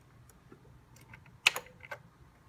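Keys tapped on an MSX2 computer keyboard, a quiet scattering of light clicks with one sharper keystroke near the middle, over a low background hum.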